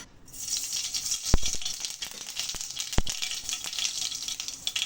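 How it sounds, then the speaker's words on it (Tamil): Mustard seeds hit hot oil in a kadai and crackle in a dense, continuous sizzling rattle, with a few sharp pops standing out, heard up close and without talk. "கடாயில எண்ணெய் ஊத்திட்டேன். இப்போ நம்ம நெக்ஸ்ட் கடுகு போட போறோம்."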